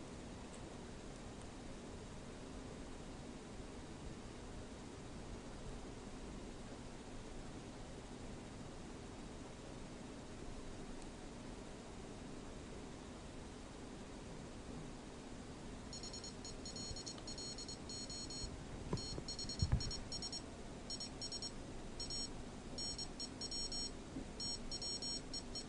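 An Arduino tweet converter sends Morse code as faint, rapid electronic beeps in short bursts over steady hiss, starting partway through and continuing to the end, with no voices.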